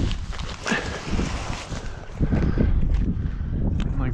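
Strong wind gusting across a frozen lake during an ice fishing outing at -5 degrees, a steady roaring buffet with heavy microphone rumble that swells louder in the second half.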